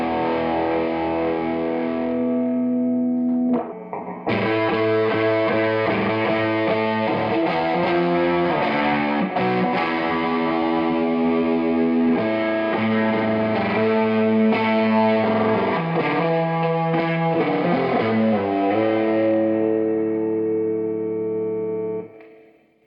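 Electric guitar through a kit-built fuzz pedal set for very high gain, loud and saturated with thick sustained distorted chords and riffs, a brief gap near the start, then continuous playing until it cuts off.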